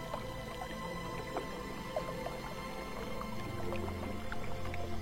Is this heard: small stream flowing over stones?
yes